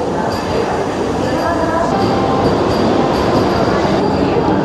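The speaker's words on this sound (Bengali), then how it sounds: "ফাইনালি চলে আসলো বন্দে ভারত এক্সপ্রেস" A Vande Bharat Express train rolls into a station, a steady loud rumble of wheels and carriages with faint squeal, continuous throughout under station ambience.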